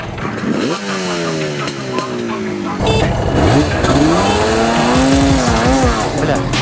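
At a race start, an IZh motorcycle and a Suzuki GS 500 rev hard nearby, their engine notes climbing and falling in repeated sweeps and growing louder and busier midway as both bikes pull away.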